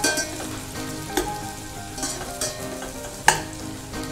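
Onions fry in a pan, a soft steady sizzle broken by a few sharp clinks and stirring scrapes, with no one speaking.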